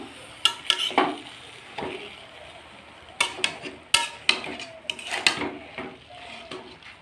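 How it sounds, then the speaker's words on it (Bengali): Spinach tipped into a hot pan, landing with bursts of crackling sizzle and clattering against the metal, fading to a softer fry between a few sharp clanks. "পালং শাকটা ঢেলে দিলাম।"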